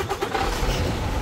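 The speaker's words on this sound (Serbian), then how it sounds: "pali ga da ga isturiram, da ga čujem jedno" A 450-horsepower car engine turns over and catches, then revs briefly, close and loud for about a second.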